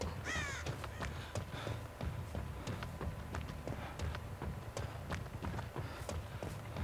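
Crows cawing in Dead by Daylight Mobile, several harsh caws near the start over a busy game backdrop of quick footsteps and thuds running throughout, with no talking.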